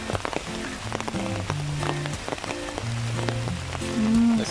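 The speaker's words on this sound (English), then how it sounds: "Now it's raining." Rain falling outdoors at a lakeside spot in Germany, a steady patter of drops on surfaces and foliage, fairly close and continuous with no talking.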